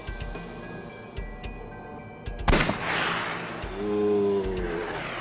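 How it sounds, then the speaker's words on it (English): A single sharp gunshot rings out in the detective adventure game AI: The Somnium Files, a loud sudden blast after quiet ambient game sound, followed by a sustained ringing, droning tone. "I'll try shooting it."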